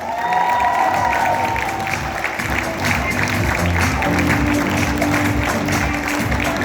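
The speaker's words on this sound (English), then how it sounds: "please welcome with a big round of applause, Zoya Akhtar" Loud audience applause with some cheering welcoming Zoya Akhtar on stage at an evening event, a continuous crowd roar of clapping with a brief tonal sound at the start.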